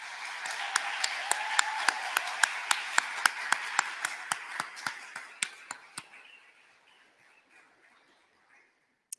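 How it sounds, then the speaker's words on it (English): Applause for graduates at a university graduation ceremony: a crowd claps steadily at first, then the clapping thins to a few scattered, sharp individual claps before fading out. "Let's give them all another round of applause."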